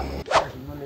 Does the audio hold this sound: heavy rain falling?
no